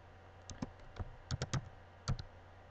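Typing on a computer keyboard, a handful of light key clicks in small irregular bursts, quiet and close against faint background hiss.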